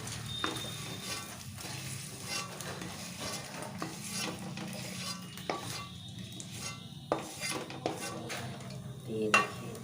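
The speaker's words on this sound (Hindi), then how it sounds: "गोंद को भून लेंगे जितने हमें भूनना है।" Edible gum (gond) being roasted in a pan, giving a continuous sizzle with scraping and stirring clatter of a utensil against the pan, fairly close and steady with occasional sharper knocks.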